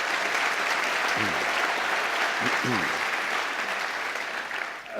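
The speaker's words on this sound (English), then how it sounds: "Give a round of applause to our panel" An audience at a government panel debate in London's Olympia applauds the panel, an even wash of clapping throughout, with a couple of brief vocal sounds mixed in before the applause tapers at the end.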